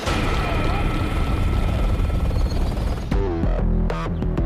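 Loud, steady rotor roar of a helicopter fills the clip, with a deep throbbing low end and broadband noise, briefly shifting near the end.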